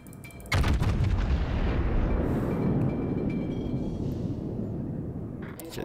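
Naval guns in a warship video game fire at the battleship Alsace. A single loud, close boom lands sharply and trails off into a long rumbling decay.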